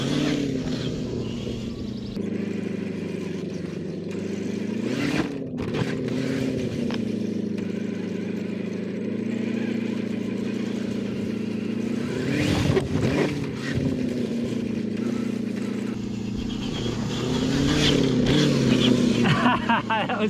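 Lifted 2021 Ford Bronco off-road, engine droning steadily at close range through a jump, with revs surging and dipping and a few clunks and knocks, while people talk faintly beneath.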